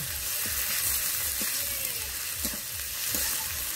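Onion fries with ginger and garlic paste in a steady, close hiss, broken by a few soft scrapes and taps as the pan is stirred.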